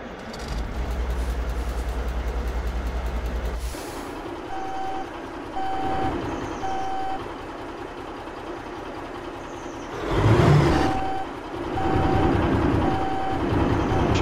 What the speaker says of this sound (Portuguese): Só vou ligar o caminhão só pra gente tirar ele daqui.